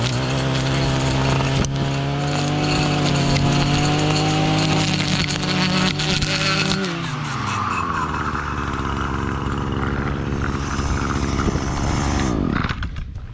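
A motorized lawn edger cutting turf along a bed edge runs loud and steady close by, its engine note dipping partway through, then winding down at the end.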